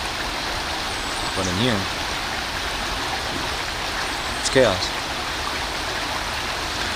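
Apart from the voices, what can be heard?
flowing stream water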